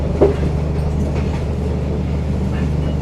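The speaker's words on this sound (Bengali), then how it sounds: "এই যে ট্রেনটা যাচ্ছে কি সুন্দর।" A train rolls along a railway in Vietnam, a low steady rumble with faint rhythmic rail clatter heard from nearby, continuous across the moment, with no speech.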